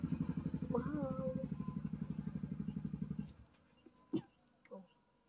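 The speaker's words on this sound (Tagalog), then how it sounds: "May motor na huminto." A motorcycle engine idles with a steady low pulsing nearby, then cuts off and falls quiet, followed by a couple of brief clatters.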